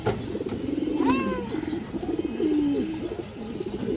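Pigeons, including a male Army breed, coo in repeated low rolling phrases, close and continuous, with a brief higher chirp near the start and no speech.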